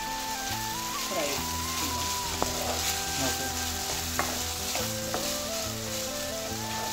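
Potatoes frying in oil with salt and turmeric, stirred in the pan: a steady close sizzle with scraping spoon strokes and occasional clinks, while background music plays underneath.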